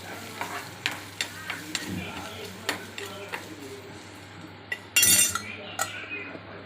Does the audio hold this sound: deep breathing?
no